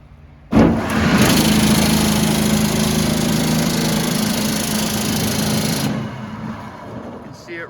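A 1.5 HP steel exhaust blower, 300 pounds at 1,740 RPM, switches on with an abrupt jump into a loud, steady broadband roar with a low hum that holds evenly, then winds down near the end.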